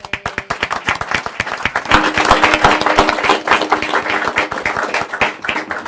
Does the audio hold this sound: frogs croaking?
no